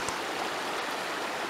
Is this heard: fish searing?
no